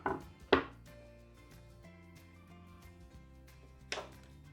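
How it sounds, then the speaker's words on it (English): Knife cutting a cucumber into thin julienne strips on a board: a few sharp, close chops spaced apart with quiet gaps between them, and no talk. "And try to make juliennes, which means thinly cut it."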